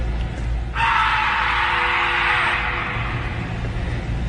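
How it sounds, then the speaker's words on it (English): A long, loud scream rises suddenly and holds steady for several seconds in a forest at night, over a low background rumble. "the scream sounds exactly the same both times"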